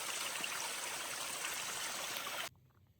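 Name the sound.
small stream cascading over rocks on the Appalachian Trail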